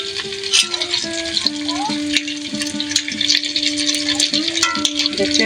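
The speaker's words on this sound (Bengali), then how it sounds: "দেখতে পাচ্ছেন তেলের মধ্যে এটা ভেজে নিছি" Egg-battered jackfruit fritters deep-frying in hot oil in a village kitchen, a continuous loud sizzle with stirring rattles, while a person talks over it.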